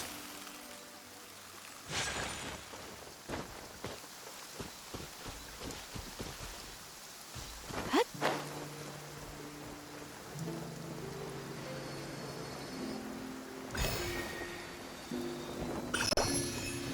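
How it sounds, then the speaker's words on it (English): Rain in the video game Genshin Impact, a soft continuous patter with scattered droplets, joined by sharp game effects, crackling bursts and tonal chimes over a quiet, steady background. "Let us find shelter from the rain."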